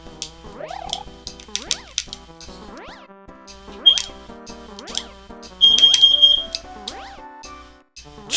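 A household smoke alarm beeps in short high-pitched bursts behind bright, bouncy music and chirping, sliding sound effects from a cute critter adventure game, with no one talking.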